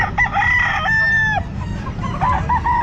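A rooster crows loudly and nearby at a pet market in Calumpit, the call rising and holding, then breaking into shorter clucks and calls, with market bustle underneath.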